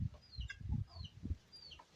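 Birds sing outdoors in quiet, scattered high chirps over low rumbling background noise, with no talking.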